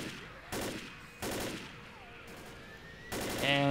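Gunfire in the zombie shooter game Left 4 Dead, a few short, fairly quiet bursts of shots spaced a second or two apart over low background game noise.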